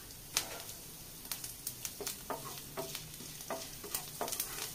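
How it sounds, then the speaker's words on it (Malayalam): Mustard seeds and rice fry in coconut oil in a pan, giving a steady low sizzle punctuated by a dozen or so sharp pops and crackles spread irregularly through the stretch, with no talking. "അരി ഇങ്ങനെ വെളിച്ചെണ്ണയിൽ ഇങ്ങനെ വറുത്തെടുത്തിട്ടുണ്ടെങ്കിൽ നല്ല ടേസ്റ്റ് ഉണ്ടാവും"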